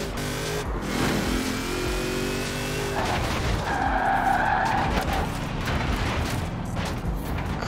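Tires squeal and screech as a car slides in a handbrake drift in Forza Horizon 4, with engine drone underneath and a loud sustained skid building midway, no talking.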